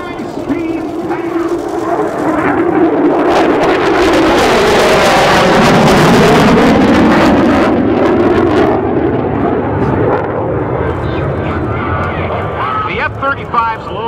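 An F-35B fighter jet makes a high-speed pass at an air show demo at an air base, a loud, sustained jet roar that swells and fades over about fourteen seconds, with commentary heard over it.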